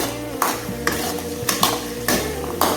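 Ginger and garlic sautéing in oil in a pan for channa kurma, with a soft steady sizzle and four or five sharp metal spoon scrapes and clanks against the pan at a regular pace.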